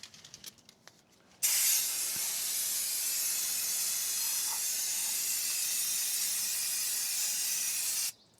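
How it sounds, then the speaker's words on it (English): Brake cleaner sprayed liberally onto gearbox parts from a 2011 Vauxhall Corsa 1.2, a single loud, continuous aerosol hiss lasting several seconds after a few faint clicks, then stopping abruptly. "give it a good old liberal spray with brake cleaner"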